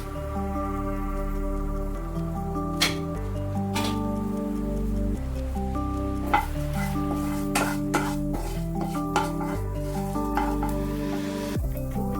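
Ground spice masala going into gravy sizzling in a pan after whole cumin, a steady frying hiss broken by scattered clinks and scrapes of a spoon against the pan.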